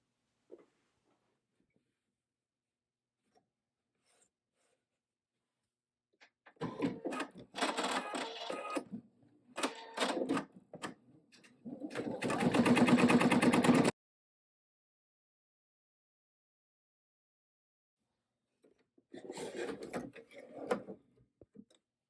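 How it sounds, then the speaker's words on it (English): An embroidery machine stitches an in-the-hoop mug rug, sounding in a few rattling, clattering bursts that are strongest in a steady run near the middle, with near silence before and between them. "We are done with all the machine stitching."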